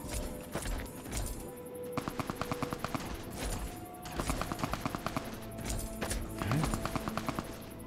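Rapid bursts of automatic gunfire as people shoot at a robot in Fallout 3, rattling repeatedly across several volleys at moderate distance over a steady game ambience.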